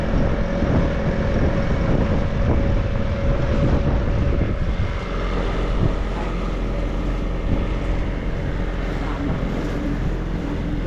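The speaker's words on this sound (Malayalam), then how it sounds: "അങ്ങനെ നമ്മൾ നമ്മുടെ ബോട്ട് യാത്ര സ്റ്റാർട്ട് ചെയ്തു." Boat ride on open water off Mauritius, with a loud continuous engine drone, rushing water and gusting wind buffeting the microphone throughout.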